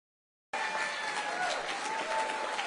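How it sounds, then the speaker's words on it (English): Applause from a crowd at a Democratic grassroots campaign event in Portland, Oregon, attended by President Joe Biden, breaks out suddenly after a brief silence and carries on as steady, dense clapping close by. "I assume you're clapping for the donuts."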